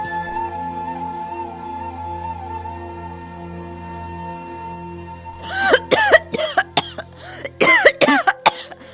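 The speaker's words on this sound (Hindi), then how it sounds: "दादी, आपकी खांसी बहुत बढ़ गई है।" After a stretch of soft sustained background tones, an elderly grandmother's raspy, hacking coughs erupt in uneven bursts, close and fairly loud, in a cartoon story.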